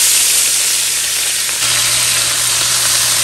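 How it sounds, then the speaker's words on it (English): Shrimp frying in hot oil make a loud, dense, steady sizzle with a faint low hum beneath, continuous and close, with no talk. "The oil is getting nice and hot, and I have the shrimp in."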